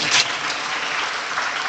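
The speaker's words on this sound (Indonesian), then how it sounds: "tepuk tangan untuk beliau" Applause for a minister visiting an Islamic boarding school in Banyuwangi, a dense, even wash of many hands clapping, loud and continuous with no talk over it.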